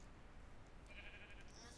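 A sheep in Minecraft gives a short, faint bleat over steady background noise.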